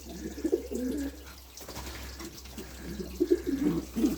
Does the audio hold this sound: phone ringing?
no